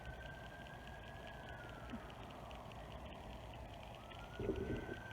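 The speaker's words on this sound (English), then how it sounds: "Police car coming somewhere. Going very quickly." A police car siren wails faintly in the distance, a thin rising and falling tone passing quickly behind quiet indoor room noise.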